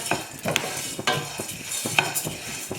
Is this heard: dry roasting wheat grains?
yes